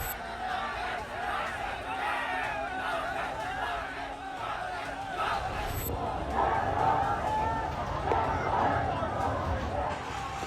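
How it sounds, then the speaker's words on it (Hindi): A large street crowd during protests in Nepal roars and shouts slogans together, a dense and sustained mass of voices that swells and surges throughout at a moderate distance. "नेपाल में अचानक नारों का शोर क्यों तेज हो गया?"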